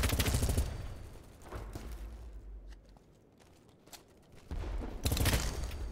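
Honey Badger rifle fire in the Battlebit Remastered shooter game, loud close automatic bursts at the start and end with quieter distant shots between.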